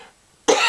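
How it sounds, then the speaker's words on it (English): A single sharp, dry cough from a wrestling commentator with a very dry mouth bursts out loud and close after a brief near-silent pause. "I'm going to cough because my mouth is very,"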